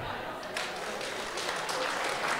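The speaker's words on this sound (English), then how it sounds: "And everyone clap" Audience clapping at a Sunday Assembly gathering in Los Angeles, a rough burst of hands that swells partway in and continues to the end.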